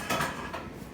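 Cast iron pans are handled in a kitchen, giving a couple of faint, quick metallic clanks and scrapes close by with no talking.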